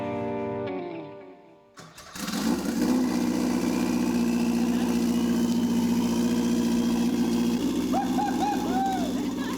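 A car engine cranks after its ignition coil wires are swapped back, catches and settles into a smooth, steady idle, loud and close, with faint chirping squeals near the end.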